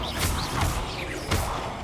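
A Bombarda spell goes off in Hogwarts Legacy, a few sharp crashing bursts with whooshing tails, moderately loud and spaced about half a second to a second apart.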